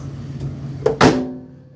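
Galanz retro microwave oven running while it cooks: a steady low hum throughout, broken by a short sharp click and then a louder clunk about a second in, after which the hum carries on.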